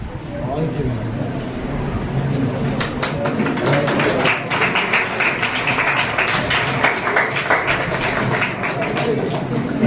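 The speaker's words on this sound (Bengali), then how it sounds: "তারা করতালির মধ্য দিয়ে অভিনন্দিত করো" Students at a school event in Basanti, Sundarban applaud with a sustained, fairly loud patter of many hands, while a voice talks over it.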